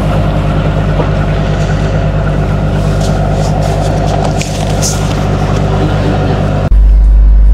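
River taxi boat engine running on a river journey to Banjarmasin, a loud constant low drone with water rush that continues throughout, then shifts abruptly to a heavier, rumbling hum near the end.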